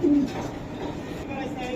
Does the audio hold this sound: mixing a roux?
no